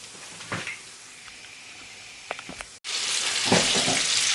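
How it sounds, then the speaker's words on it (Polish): Oil sizzles and crackles as battered plums fry in a pan, quiet at first with a few pops, then a louder, steady frying hiss fills the second half. "Smażymy z jednej i z drugiej strony."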